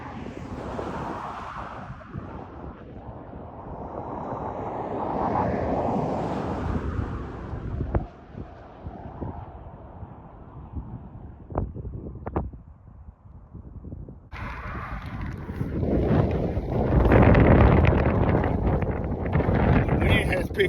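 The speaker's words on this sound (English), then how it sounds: "The wind has picked up." Wind buffets the microphone on an open road during a long-distance bike ride, a rough, broadband rush that surges and eases over the whole stretch and swells loudest toward the end, with some faint voice-like sounds mixed in.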